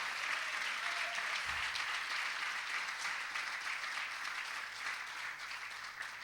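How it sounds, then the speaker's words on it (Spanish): A church congregation claps steadily during a sermon, a continuous, even burst of many hands at moderate level with no voices over it. "Fuerte esas palmas al Dios Todopoderoso."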